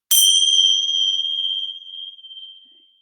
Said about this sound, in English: we need the bells.